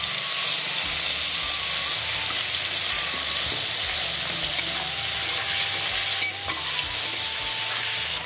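Chopped tomatoes sizzle and fry in a pan with salt and turmeric for bean seed dal, a steady close hiss with occasional stirring scrapes and no talking.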